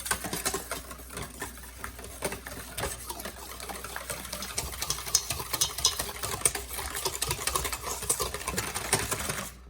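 Dough ingredients with a pinch of salt being mixed in a bowl for Russian-Armenian perachki, a busy stream of fast close clicking, tapping and scraping that runs on unevenly without pause.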